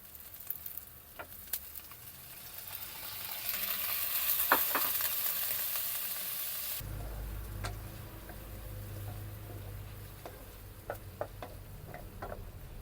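Balut sizzling in a pan for adobo, a bright steady frying hiss that swells as the eggs go in, with scattered ticks and taps of utensils against the pan, close and without talk.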